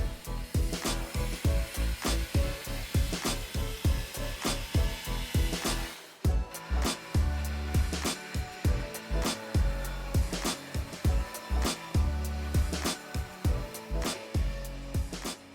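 A bandsaw cuts the rough outline of a wooden serving board, its motor drone broken by repeated rhythmic bursts as the blade bites the wood, loud and close throughout.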